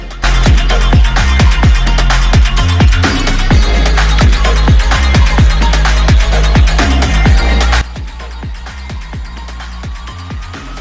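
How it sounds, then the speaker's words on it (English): A TVS Apache RR 310 motorcycle, dusty after three months unused, runs with a loud, steady, rapidly pulsing engine note up close, then drops to a quieter idle near the end. "now let's start the bike."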